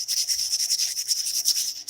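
A small wooden ring is hand-sanded with the grain in quick back-and-forth strokes, a dry rhythmic rasping close up with steady even pulses and no talking.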